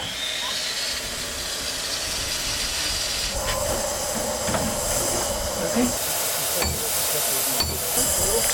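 Steady hiss and rumble of a narrow-gauge heritage steam locomotive idling nearby at Woody Bay on the Lynton & Barnstaple Railway, with intermittent clanks and bursts of steam over continuous background noise.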